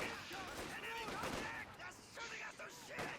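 Distant gunfire from Riflemen fighting Grenadiers in Company of Heroes 2, with scattered rifle shots and rattling bursts sounding under continuous talk.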